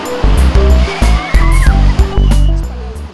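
Waves in a large resort wave pool with white sand and coconut palms, a loud, continuous, close rush of churning water with repeated surges.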